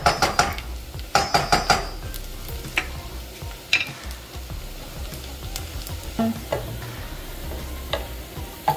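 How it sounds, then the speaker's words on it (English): Onion fries in a pot with a steady sizzle while a utensil clanks and scrapes against the metal in clusters of sharp knocks, close by and with no talking. "So my onion is browning well there"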